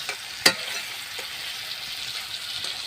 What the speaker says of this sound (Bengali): দেখুন বন্ধুরা আলুটা আমার কষা হয়ে গেছে এবার আমি জল ঢেলে দেব